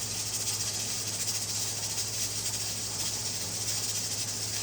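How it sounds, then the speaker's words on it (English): A pressure canner hisses steadily as steam escapes past its jiggling weight while green beans are canned, a continuous bright rush with a low hum beneath, no talking. "every time it's jiggling like it's letting steam out"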